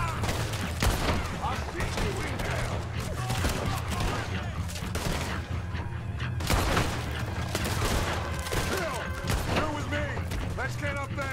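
Red Dead Redemption 2 gunfire: rapid, repeated shots and booms crackle throughout a busy in-game firefight, loud and dense, while someone talks over the action.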